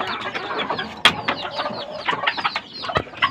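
Two roosters clucking and calling close by, a busy run of short squawks and chirps with one sharp loud call near the start and another toward the end.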